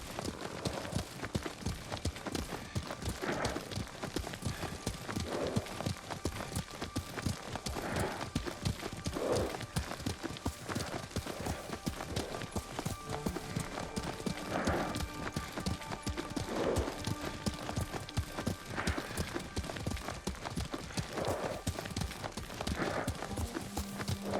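Steady rhythmic hoofbeats of a horse trotting in the video game Ghost of Tsushima, continuous and close, with a faint tonal background underneath.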